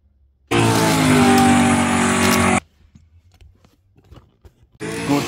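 Hot Wheels and Matchbox diecast cars race down a plastic track, giving a loud, steady rolling rumble for about two seconds before it cuts off to faint clicks, then another burst of rolling starts at the end.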